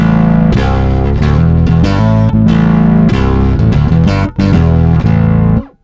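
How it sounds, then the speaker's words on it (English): Heavy distorted bass blended with a sub-octave layer on an EBS Fafner II amp: loud, thick riffing with punchy repeated notes and brief gaps, cutting off at the end. "really great blends of distorted sounds, sub-octaves and clean stuff, and you can do it all inside the amp."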